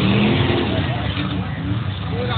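A big truck passes close by, its loud low engine rumble and road roar filling the scene, with people talking over it.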